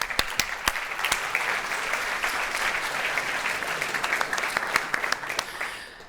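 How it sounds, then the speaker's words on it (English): A keynote audience at a Ruby programming conference gives a round of applause, a dense, steady wash of many hands clapping with some sharper nearby claps, fading out at the very end. "So give yourself a round of applause."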